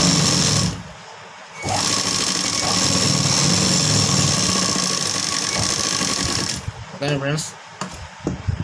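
A sewing machine stitches a blouse jacket with a sustained, even mechanical whirr that runs for several seconds, pausing briefly at the start and giving way to a few short bursts and clicks at the end.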